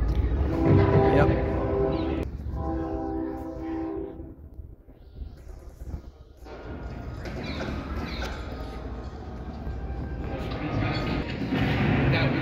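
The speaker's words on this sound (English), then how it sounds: "I don't know if you could hear that train whistle." A train horn blows in two long, harmonic blasts outside a US Army museum, then rail rumble and another horn sound continue in the distance.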